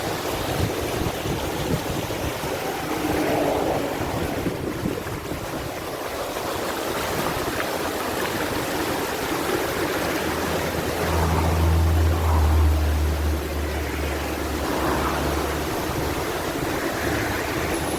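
Water flowing down from the hills of Dunn River Falls in Ocho Rios, Jamaica, a continuous broad rushing wash with gusts of wind noise on the microphone and a low rumble partway through, steady throughout.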